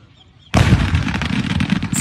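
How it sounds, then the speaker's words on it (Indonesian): Firecrackers carried by a hot air balloon explode in a hamlet of Ponorogo, Indonesia: after a quiet start, a sudden loud blast gives way to dense, continuous crackling pops that go on to the end. "Sebuah balon udara yang membawa petasan meledak di Dusun Muneng Tengah"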